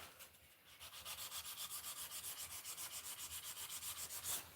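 A Dremel rotary tool polishing, a faint, quick rhythmic rubbing that pulses evenly several times a second, steady and close with no talk.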